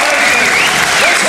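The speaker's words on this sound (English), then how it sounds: "And as one, the pavilion stands, applauds." A pavilion crowd at an Australian boxing match applauds steadily, a dense wash of clapping that fills the space without pause, with some voices mixed in.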